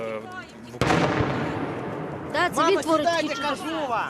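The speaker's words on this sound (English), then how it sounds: "You can hear the artillery. That is outgoing fire from Ukrainian forces." Outgoing artillery in Kyiv, Ukraine, fires one sudden heavy boom that rolls off slowly, followed by people talking nearby.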